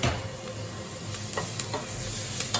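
Onion fries in butter in a hot pot, a steady close sizzle with a few scraping stirs of a utensil against the pot, and no voices.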